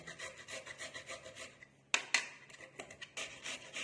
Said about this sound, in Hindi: तो ये हमारी गाजर घिसना शुरू हो गई।